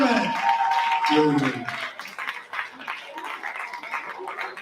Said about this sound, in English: A big round of applause, ladies and